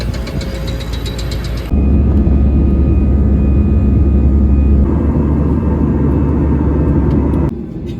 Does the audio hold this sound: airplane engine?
yes